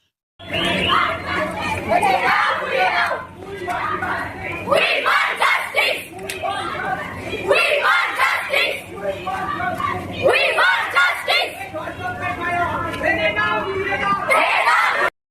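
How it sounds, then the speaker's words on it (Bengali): Crowd of young schoolchildren chanting protest slogans in unison while marching through a street in Jalpaiguri, loud, close and rhythmic, with shouted phrases repeating over steady crowd noise. "ছোট ছোট পড়ুয়াদের এই স্লোগান আজ কাঁপিয়ে দিল জলপাইগুড়ির রাজপথ"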